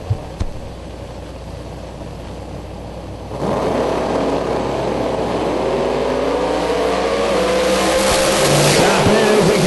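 A 1992 Camaro drag race car with a 737 cubic inch engine launches at a drag strip event, a loud engine roar that surges and builds steadily after a quieter start, with an announcer talking over it.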